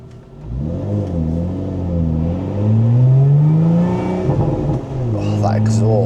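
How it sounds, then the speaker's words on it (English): A Lotus Emira's exhaust swells as the car accelerates, the engine note climbing smoothly in pitch through a gear, easing briefly and then pulling up again, heard from inside the cabin. "Oh, that exhaust."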